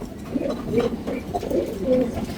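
A dove or pigeon coos softly several times in a low, repeated rhythm, close by and without talk.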